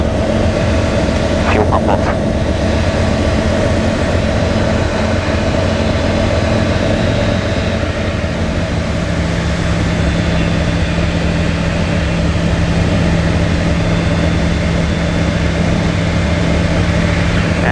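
A small plane's engine drones in the cockpit while climbing out at about 75 knots, a loud, constant roar with a steady hum that fills the whole stretch.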